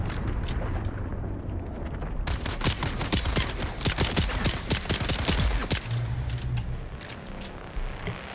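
Rapid bursts of gunfire from Dune Awakening, dense volleys of shots crackling close and loud, with a rumbling low backdrop and scattered single reports trailing off.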